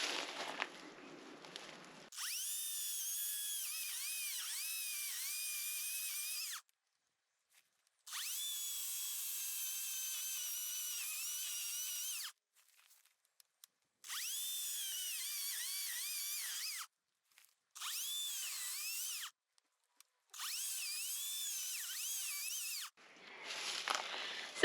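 A chainsaw felling a tree on an off-grid homestead with a small cut taken from the bottom, heard in several sustained high buzzing bursts of a few seconds each, separated by short near-silent pauses, with no talk over it.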